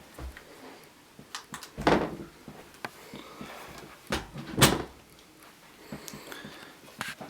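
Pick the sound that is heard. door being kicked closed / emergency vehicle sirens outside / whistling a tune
door being kicked closed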